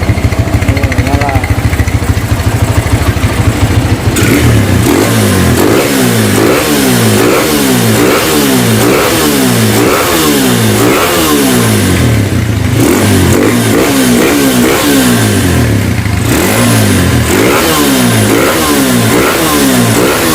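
A restored Honda GL Max motorcycle with an aftermarket exhaust revs loudly and close up in repeated rising and falling throttle blips over a steady idle, continuing for about twenty seconds.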